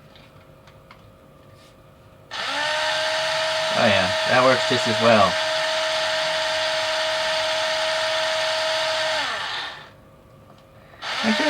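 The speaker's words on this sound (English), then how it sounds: "let's drill into this one" An electric drill fitted with a half-inch chamfer bit bores into plastic, a steady loud whine lasting about seven seconds that drops off at the end and starts again briefly, with someone speaking over it partway through.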